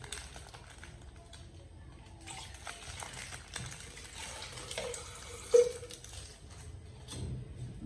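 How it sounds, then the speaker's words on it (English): Water runs and splashes into a blender jar being rinsed after grinding peanuts for groundnut soup, a soft uneven trickle with a brief louder splash near the end, fairly quiet. "Let's add in a little more water."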